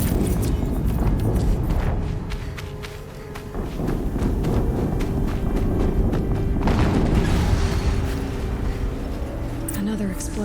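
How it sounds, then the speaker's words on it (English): Heavy booms and rumbling blasts from explosions in the video game Horizon Zero Dawn fill a loud, dense mix with thuds and running steps, and a voice speaks over the battle. "Another explosion."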